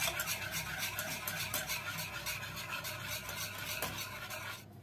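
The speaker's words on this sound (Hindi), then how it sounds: "घी डालते हैं, रिफाइंड तेल डाल लेते हैं, अब मिक्स करते हैं" Ghee and refined oil being stirred together in a bowl for cake batter, a continuous soft scraping and swishing rhythm, fairly quiet and close, with no talking.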